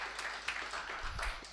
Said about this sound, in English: I would like everyone to give a hand of applause to everybody else